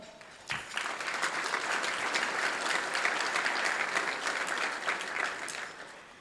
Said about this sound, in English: may I have some applause for our road home?